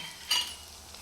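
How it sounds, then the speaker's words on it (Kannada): Chilli powder hits hot oil for tempering a paneer masala gravy, giving a short, sharp burst of sizzle that settles into a soft, steady hiss. "ಒಗ್ಗರಣೆಗೆ ಖಾರದ ಪೌಡ್ರ್ ಹಾಕಬೇಕು"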